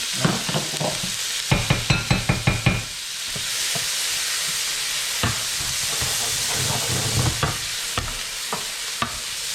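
Three diced onions sauté in a pan with a steady hiss, while a spoon scrapes and stirs in a quick tapping run at the start and in scattered taps later. No one speaks.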